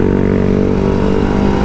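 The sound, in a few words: Kawasaki Ninja RR 150 motorcycle engine revving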